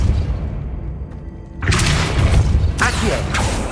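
A Depulso spell is cast in Hogwarts Legacy, heard as a sudden loud whooshing boom that breaks through a quieter rumbling backdrop and is followed by a second forceful burst.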